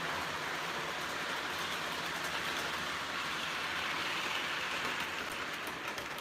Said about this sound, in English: So on track 2, we got the New York Central FTAAs pulling a New York Central themed manifest freight train.